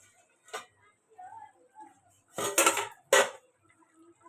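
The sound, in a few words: lid being taken off a cooking pot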